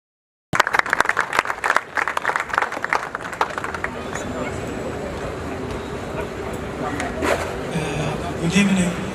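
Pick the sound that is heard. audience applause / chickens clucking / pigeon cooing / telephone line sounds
audience applause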